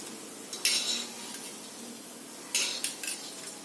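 Onion bhaji fritters being lifted out of hot frying oil, with two short clusters of metal spoon and pan clinks over a soft background sizzle.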